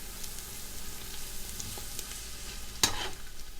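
Caramelizing onions and garlic fry together in a pan for Persian ashe reshte, a soft steady sizzle with light stirring and a single sharp utensil clink near the end.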